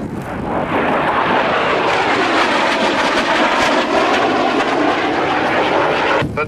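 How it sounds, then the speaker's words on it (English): An aircraft sweeps past in an arcing pass at the Royal International Air Tattoo at RAF Fairford, a loud, sustained roar that holds steady for several seconds before dropping off at the very end. "Pete Wilkie coming by from the right in an arcing pass, so we should get a top surface view of the aircraft as it flies by."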